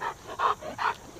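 A nervous Cane Corso puppy gives three short, high yelping barks in steady succession, close and fairly loud, with brief pauses between them and no talking.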